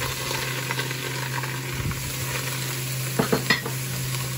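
Mushrooms frying in butter in a hot pan, a close, steady sizzle with a few sharper stirring knocks and scrapes near the end, no voices.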